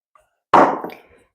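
Forty millilitres of milk pours into a boozy fruit cake mixture in a single short burst of splashing liquid lasting under a second, close and fairly loud, then trailing off quickly.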